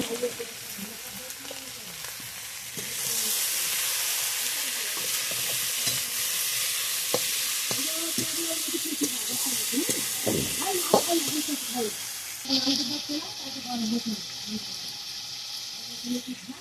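Spices fry in a pan with turmeric, chili powder and salt as they are stir-fried, making a loud, steady hissing sizzle with scraping strokes of the spatula that stay up close throughout.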